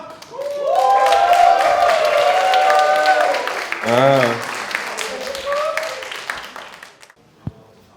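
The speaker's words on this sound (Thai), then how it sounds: "ขอเสียงปรบมือต้อนรับมีนฮับครับ" A stand-up comedy audience claps and cheers to welcome a comedian, the applause swelling and holding, then fading, with voices calling out over it and a single sharp knock near the end.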